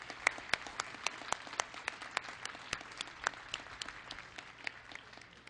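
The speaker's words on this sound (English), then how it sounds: "please give me a round of applause for our wonderful band" An audience at a U.S. Army Medical Command ceremony claps for the band, scattered sharp individual claps over a softer continuous patter, fairly distant and without talk.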